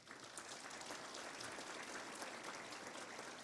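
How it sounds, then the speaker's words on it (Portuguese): Audience at a solemn award ceremony breaking into steady, dense applause, many hands clapping together at a distance, filling the whole moment without pause. "Eu gostaria de pedir uma salva de palmas para o doutor Flávio."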